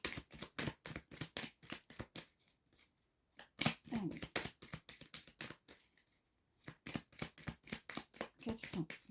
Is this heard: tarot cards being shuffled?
yes